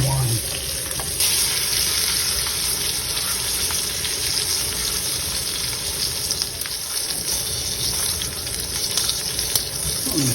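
Lobster claws poach in butter and white wine, giving a loud, steady frying sizzle that runs unbroken and close throughout, with no voices.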